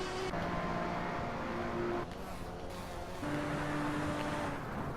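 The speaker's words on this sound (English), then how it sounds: "As Danny screams down the one of like 5 long straightaways at almost 170" A car engine in the Hot Wheels video game drones steadily at high revs down a long straightaway near 170, its tone stepping up through gear changes, with no talk.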